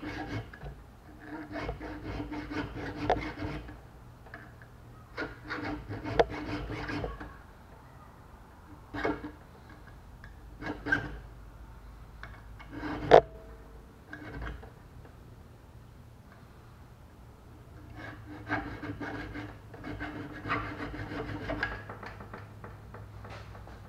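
A fine-tooth knife-bladed file rasps across the metal teeth of an old woodworker's vise in short close strokes, repeated in bursts separated by pauses, with occasional sharper scrapes and knocks.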